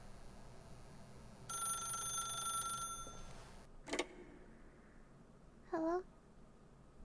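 Telephone ringing inside The Stanley Parable: a sustained electronic trill for about a second, then a brief click and a short rising chirp, faint over a quiet room-tone background.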